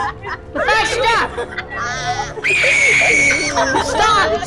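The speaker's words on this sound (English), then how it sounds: "Stop screaming!" Players in a Fortnite horror game scream in panic over voice chat, shrill wavering shrieks and frantic overlapping voices, loud and close, with brief yelled words between the screams.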